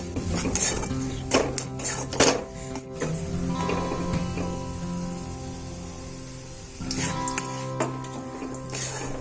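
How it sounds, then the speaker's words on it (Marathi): Gram flour roasted in ghee in a pan for besan ladoo, with clinking spoon and pan scrapes and stirring sounds at close range, quiet and intermittent, and a steady faint hiss underneath. "असं थोडं थोडं तूप टाकत आपण भाजून घेणार आहे।"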